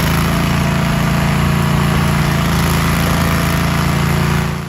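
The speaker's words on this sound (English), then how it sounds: "For large tree stumps, the Toro STX 26 is the ideal choice." A Toro STX 26 stump grinder engine runs at a steady, loud, close drone with a strong low hum and broadband roar, then eases off slightly at the very end.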